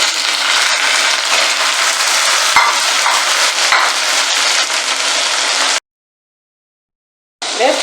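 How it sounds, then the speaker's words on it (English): Chili beef and tomatoes simmer and sizzle in a pot, a loud, steady frying hiss with occasional stirring knocks, cut off abruptly by a short silence before resuming. "I'm going to add my chili beef, the one chili beef, and then my tomatoes, and I'll stir and simmer"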